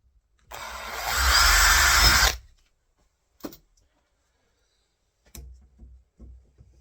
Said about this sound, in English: Mark the holes where the screws are going to be, and just use a pilot bit.